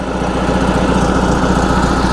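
A loud, steady BMW Z3 engine idles up close with a rough, raspy exhaust rumble and continuous vibration, no voices.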